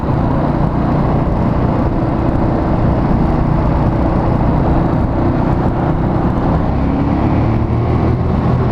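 A Ducati 821 motorcycle engine running with its stock exhaust, a loud, steady, unbroken mechanical drone that holds even throughout with no speech.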